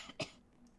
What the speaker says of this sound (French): Le gars, il tousse, il vient nous voir.